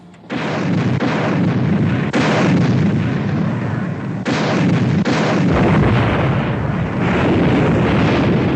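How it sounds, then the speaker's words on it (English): Depth charges explode underwater in a war film, a series of loud, deep, sustained rumbling blasts one after another, each onset swelling into a heavy roar that fills the scene without speech. "Mr. Ware, set depth charges to 100"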